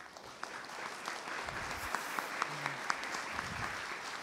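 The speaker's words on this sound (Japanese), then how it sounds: "大きな拍手でお迎えください。" Faint audience applause welcomes a speaker to a talk on advanced look development, a soft, even patter of many hands with a few sharper claps standing out, fairly distant.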